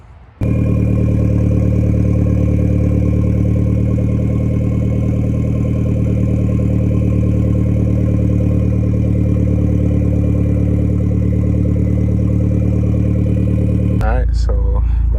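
A Hyundai Genesis Coupe engine idles steadily and loudly up close, a constant low hum that cuts off abruptly near the end, followed by a brief bit of clatter.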